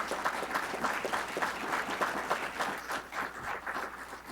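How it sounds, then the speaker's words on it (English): An audience at a founder's day ceremony claps in sustained applause, a dense, even patter of many hands heard from nearby for several seconds. "give them a round of applause, please."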